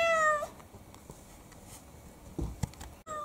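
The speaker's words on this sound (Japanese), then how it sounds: "のびのびのびのびにゃんこ" A house cat gives a short meow at the start and another brief one at the end, with faint shuffling and a quiet room in between.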